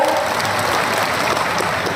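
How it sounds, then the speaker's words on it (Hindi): A large audience claps loudly and continuously at a political rally in Ashoknagar, where the chief minister is speaking about Chanderi. The applause is a dense, steady roar lasting the whole stretch, with no voice on top. "जोरदार ताली बजाएं।"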